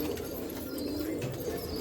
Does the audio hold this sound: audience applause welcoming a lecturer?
no